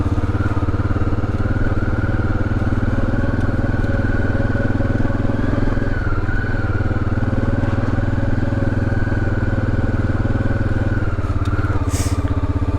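A Honda XRV750 Africa Twin motorcycle, just rebuilt, runs with a steady, loud, close engine drone that holds an even tone throughout, with no talking.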